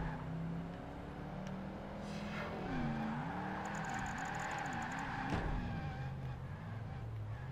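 A Corvette race car engine in Project Gotham Racing 2 whines and revs through gear changes, its pitch rising and dipping with tire squeal, loud and continuous.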